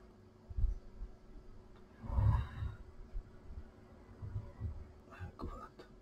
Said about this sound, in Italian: se sentite questo ronzio è perché c'ho il ventilatore qui accanto